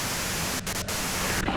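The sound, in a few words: white noise static from the video game Disco Elysium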